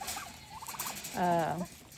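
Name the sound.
turkeys gobbling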